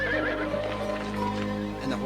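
A horse neighs loudly and close, a wavering whinny over a low hum, with faint hoof clops and a voice mixed in.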